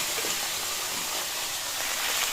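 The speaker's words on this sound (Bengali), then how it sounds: "এখন ভালো যে পিসগুলো সেইগুলো আমি লাস্টে গরম তেলে ভাজছি।" Large fish pieces frying in hot oil in a pan give a steady, loud hiss that fills the whole stretch without a break, with no talking over it.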